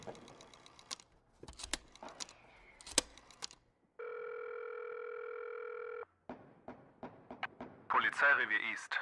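Steady telephone dial tone in a German horror audio drama, a continuous electronic hum lasting about two seconds, framed by clicks, handset handling and footsteps, with a short burst of speech-like noise at the end.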